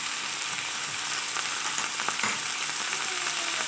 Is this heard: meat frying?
yes